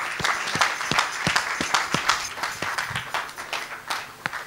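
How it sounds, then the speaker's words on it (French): A church congregation at a prophetic service applauds: irregular, distinct claps from a modest group, sharp individual hand strikes standing out in an uneven rhythm, moderately close, with no speech over it. "donne une grande acclamation à Jésus-Christ"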